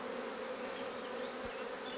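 Honeybees hum steadily around a hive after a swarm, a dense continuous buzz close by with no pauses or voices.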